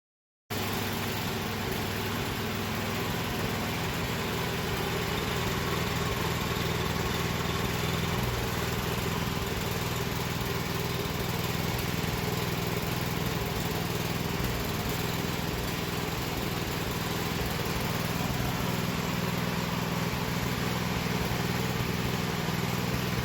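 A homemade sawmill's engine and belt drive system running steadily for a long stretch, a loud, close, continuous small-engine drone with a faint high whine above it and no pauses.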